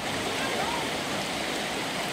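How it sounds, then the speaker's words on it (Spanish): A river flowing beside hot springs in Atempa, Hidalgo gives a steady, even rush of moving water, close and moderately loud, with faint gurgling and no distinct breaks. "Aquí está el río."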